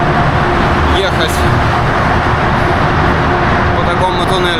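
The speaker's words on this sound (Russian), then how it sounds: "Да, эти фуры, эти машины носятся." Cars and heavy trucks rush through a road tunnel in Turkey, a loud, constant roar of traffic noise with no clear gaps, heard from close by a cyclist.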